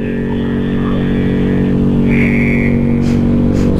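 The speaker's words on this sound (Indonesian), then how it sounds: "Sialan, suaranya rame banget. Motor gue kayak rusak deh." A Yamaha RX King motorcycle engine roars loud and near, a constant harsh drone with a raspy buzzing tone that holds without a break.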